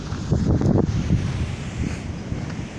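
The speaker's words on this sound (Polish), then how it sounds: "tu od zachodu ten wiaterek się taki jakiś zrobił" Gusty west wind near a waterfall buffets the microphone in loud low rumbling blasts, strongest early on and then settling into a steadier roar, with no voices.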